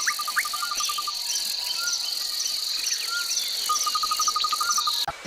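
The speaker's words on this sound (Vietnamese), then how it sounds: "con bọ," A cricket-like insect chirps steadily in fast repeated pulses, with sparse tweets scattered over the top and a brief bump near the end.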